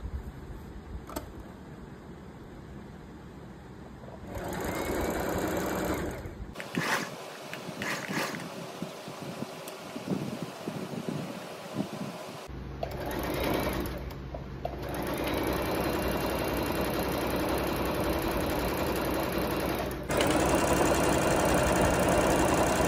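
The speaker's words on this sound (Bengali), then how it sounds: "চলো এখানে লেহেঙ্গাটা স্টিচ করা স্টার্ট করে নিলাম" An electric sewing machine stitches a lehenga in a home room, running in a steady mechanical hum with a brief stop in the middle before the motor picks up again, loud and close throughout.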